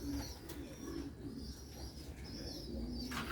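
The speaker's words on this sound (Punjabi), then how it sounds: "ਕਬੂਤਰ" Sialkoti pigeons coo softly in repeated low, throaty calls against a faint background hum.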